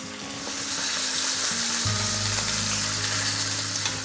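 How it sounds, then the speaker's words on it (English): Pork shanks brown in a hot pan with a loud, continuous sizzle and spatter, and a scrape and shift partway through as the meat is turned. "I'm still keeping an eye on these, making sure that I'm flipping them as they brown"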